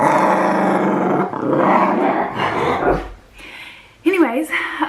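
A small, grumpy pet dog growls in a low, throaty rumble that runs steadily through the first seconds, then fades and changes to higher whiny vocal sounds near the end, heard close up indoors.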